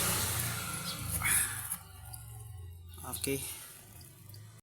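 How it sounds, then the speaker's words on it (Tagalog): Motor oil draining from the engine of a Mitsubishi Mirage G4 during an oil change, a faint steady trickle of liquid running under a short spoken word and light background noise. "So habang dinidrain natin yung oil"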